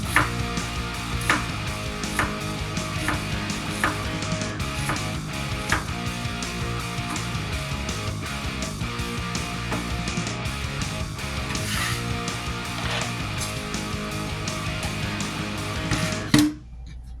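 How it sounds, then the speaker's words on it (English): Knife dicing a shallot on a cutting board: fairly quiet, steady taps with irregular gaps between them, heard over soft background music with no talk. The taps stop near the end. "This is a shallot. I'm just going to dice it up."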